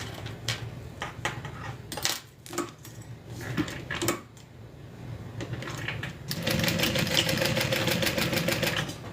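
A sewing machine stitches a cross onto a crossbody bag, first in short stop-start bursts among clicks and handling, then running steadily and loudly for the last few seconds.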